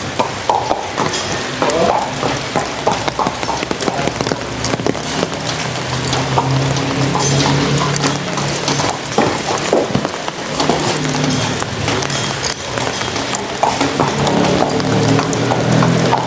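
A local horse's hooves clip-clop steadily and close by for a long stretch, in an even walking rhythm against a busy outdoor background.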